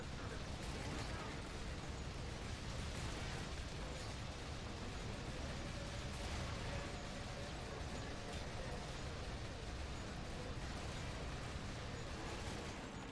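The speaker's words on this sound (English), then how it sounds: "explosions in the background" Explosions in the video game Earth Defense Force 5: a dense, continuous barrage of booms and crackling bursts, steady and loud throughout with no clear gaps, with speech mixed in.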